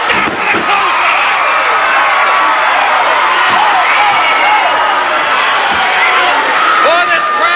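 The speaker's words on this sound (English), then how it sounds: "Boy, this crowd is into it" A loud, dense arena crowd cheers and roars without pause at a UWF pro wrestling tournament final at the Sam Houston Coliseum, with whoops and shouts rising above the steady wall of noise.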